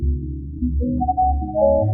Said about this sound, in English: Which you can kind of hear that kind of like watery phasing thing going on